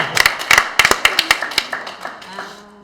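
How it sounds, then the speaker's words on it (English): A single person claps about ten sharp claps in an uneven rhythm, then the claps fade into quiet room tone. "I'm the only one clapping"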